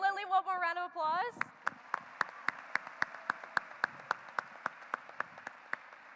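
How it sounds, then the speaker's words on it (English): At a state FFA convention session, a voice speaks briefly, then a steady run of sharp, evenly spaced claps follows for several seconds, fairly faint and regular rather than a dense crowd roar. "Let's give Lily one more round of applause."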